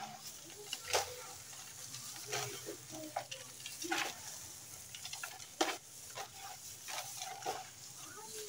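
Grape leaves being stirred in a cooking pan, with repeated sharp scraping and clattering strokes over a faint sizzle, spaced irregularly across the whole stretch.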